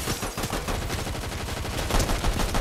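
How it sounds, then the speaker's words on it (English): Rapid gunfire from a Fortnite match crackles steadily throughout, dense bursts of shots close by with no pauses and no talk over it. "I do see some gunshots. They're pretty close."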